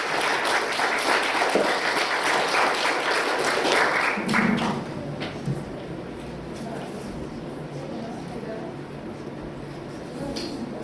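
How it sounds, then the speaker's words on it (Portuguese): Audience applauding at the close of an evening talk on history teaching, brisk clapping for about four seconds that then fades into scattered claps, taps and murmuring voices. "Uma salva de palmas, por favor."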